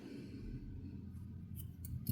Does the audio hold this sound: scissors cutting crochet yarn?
yes